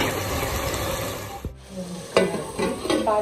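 Masala sizzles and fries in oil in a pan while being stirred for egg biryani, a close, steady crackle broken by scraping stirs and short clatters.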